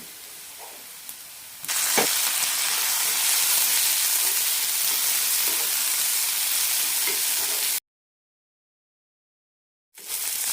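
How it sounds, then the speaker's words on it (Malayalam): Onion and tomato sauté in a pan for a curd chutney, making a loud, continuous hissing sizzle with faint stirring. The sound jumps up early on, then cuts to about two seconds of silence before returning. "തക്കാളി നന്നായി വെന്തുടയുന്നത് വരെ വഴറ്റാം"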